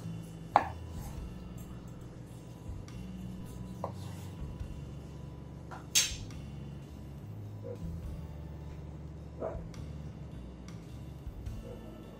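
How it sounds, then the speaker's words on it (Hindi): A knife pushed down through a kitchen slicing tool makes a few sharp, separate cutting clicks spaced seconds apart over a quiet low hum. "ऐसे हमें एक एक खाने में इसे चाकू को अंदर डालना है और इसे नीचे तक ले आना है"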